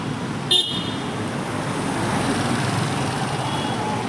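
Busy road traffic near a shopping area, a continuous rumble of cars and trucks passing close by, with a brief sharp horn toot early on and no talking.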